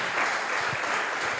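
A church congregation applauding, dense, even clapping from many hands that fills the whole short moment without a break.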